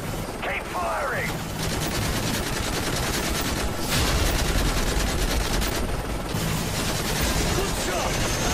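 Video game gunfire from a Battlefield 3 or Modern Warfare 3 campaign battle, loud sustained bursts of automatic fire with heavy booms and rattling mechanisms, dense and continuous across the whole stretch.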